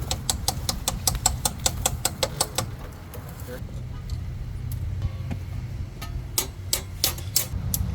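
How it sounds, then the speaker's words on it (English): Breaker blanks being knocked out of an electrical panel cover: a fast, even run of sharp metallic taps, then a pause, then more scattered knocks, over a steady low engine-like rumble. "I'm just knocking out all the panel cover breaker blanks so I can get the panel cover on"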